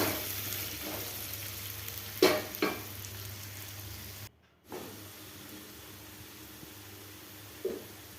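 Potato pieces fry with turmeric in a pan, giving a continuous close sizzle and hiss, with a few louder scraping stirs breaking in and a brief dropout midway.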